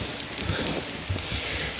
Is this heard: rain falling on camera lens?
yes